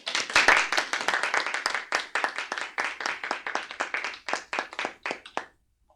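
An audience at a school board meeting claps to welcome a speaker, a dense burst of applause that thins toward separate claps, then stops abruptly into silence.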